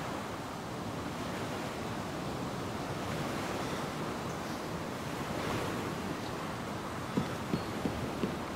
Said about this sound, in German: ich folge einfach dem Wasser. Immer der Küstenlinie folgen.